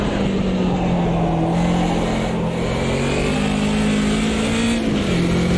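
BMW 2002 Turbo engine in the Automobilista 2 racing game, a steady droning note that rises and falls slightly through gear and throttle changes, loud and continuous with no talking.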